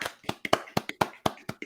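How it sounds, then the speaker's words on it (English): A scattered round of applause, a handful of sharp hand claps in uneven rhythm, fairly close and moderately loud, with no talking over them. "We need a round of applause in the background for the Black Queens."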